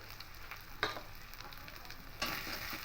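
Ground coriander, cumin, turmeric and Kashmiri chilli powder hitting a hot pan while being stirred for a banana-flower dish, a soft low sizzle with a few scraping stirs, faint overall.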